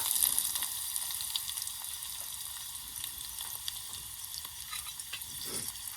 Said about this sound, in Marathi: तर मित्रांनो आता आपण कढीपत्ता टाकणार आहोत.